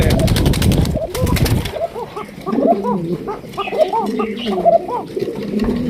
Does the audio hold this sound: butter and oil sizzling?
no